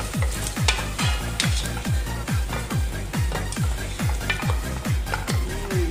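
Whole cloves, bay leaves, cinnamon and cardamom stirred in a hot pan for macaroni kabsa, sizzling steadily while a spoon scrapes in a quick regular rhythm, about two strokes a second, close and clear with no talking.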